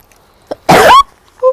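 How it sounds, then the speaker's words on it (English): A single sharp human sneeze, small and high-pitched, bursting out close and loud after a quick intake of breath, followed by a brief murmur. "A little pixie sneeze."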